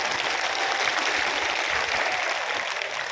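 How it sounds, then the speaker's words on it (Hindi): Loud, dense applause from a large crowd at a political rally in Bhadra, continuous clapping filling the whole stretch without a break. "जोरदार ताली के साथ"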